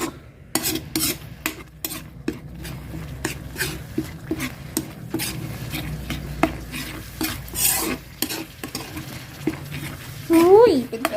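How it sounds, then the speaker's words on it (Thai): Thai green curry is stir-fried in a pan, with a utensil repeatedly scraping and clinking against the metal in an irregular rhythm over a soft sizzle, close and fairly loud, and a voice speaking briefly near the end. "ผัดไปอีกนิดนึงแบบหอมๆจ้ะ"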